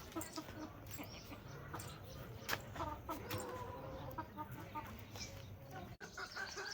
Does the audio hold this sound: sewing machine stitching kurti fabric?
no